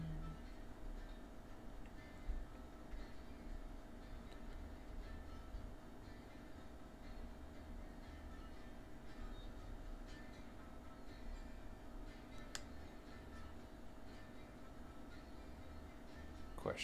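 A train runs in the railroad game Railroads Online, giving a faint, steady low rumble with light ticking and clacking throughout, quiet and continuous in the background.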